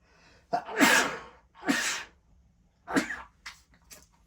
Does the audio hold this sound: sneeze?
yes